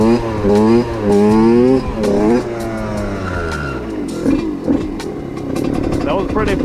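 A GASGAS SM 125 supermoto revs hard through a second-gear wheelie, its two-stroke engine climbing and dropping in loud close bursts before fading, with a rider talking over the tail end.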